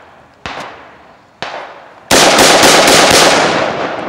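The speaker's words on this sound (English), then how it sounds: "This is a BAR. Fire in the hole." A Browning Automatic Rifle (BAR) fires two loud, separate single shots, then lets off a sustained rapid burst of closely spaced reports that rings on to the end.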